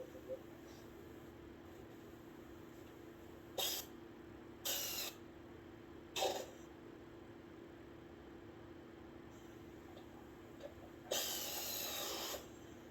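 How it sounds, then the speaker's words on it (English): An air ratchet removes lug nuts from a Jeep wheel during a Gladiator-to-Wrangler wheel swap, firing in several short, sharp bursts and then one longer run over a steady low background hum. "she used the air ratchet for the first time"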